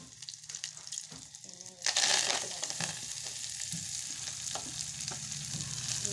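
Fenugreek seeds and field beans fry in oil for a palya while a utensil stirs them, a low scraping that gives way to a loud, close, bright sizzle that carries on at a steady level.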